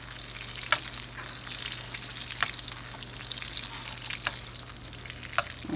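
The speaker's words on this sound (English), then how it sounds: "Get that garlic nice and heated up" Garlic sizzling in melted butter in a hot pan for a steak sandwich: a steady, close frying hiss with a few sharp pops and spatters, no talking.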